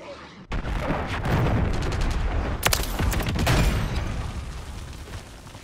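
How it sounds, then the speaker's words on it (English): Heavy blasts and rolling explosions from a friendly cruise missile strike in a video game, a loud sustained barrage of booms and crackling impacts that starts abruptly and rumbles on for several seconds. "Friendly cruise missile deployed."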